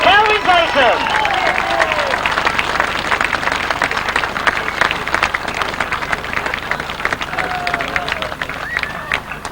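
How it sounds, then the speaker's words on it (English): Crowd applause and cheering for the winners of a grasstrack motorcycle race, a loud, close burst of clapping mixed with chatter, with brief engine-like whines flaring at the start and near the end. "let's give one more big round of applause"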